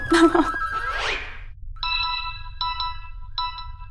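A phone rings in repeated electronic bursts, three short trilling rings after some brief rustling and a voice at the start, with steady low hum underneath.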